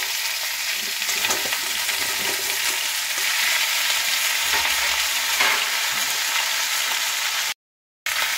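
Pumpkin and potato sizzling in hot oil in a pan as they are stirred, a steady loud crackling hiss with faint scraping, cut off by a brief silent gap near the end.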